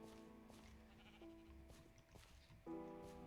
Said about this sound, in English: And is that a sheep?